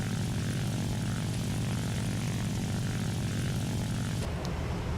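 Propeller aircraft engines drone in War Thunder as a J7W1 interceptor engages a B-17 bomber, a dense, loud, continuous roar that cuts off sharply near the end.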